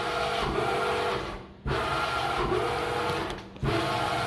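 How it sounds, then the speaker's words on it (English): Servo motors on a serviced Proto Trak Sport B3 CNC mill hum and whir quietly in steady runs, briefly dipping and restarting twice as axes move and stop. "You can see that the servo motors run nice and quiet."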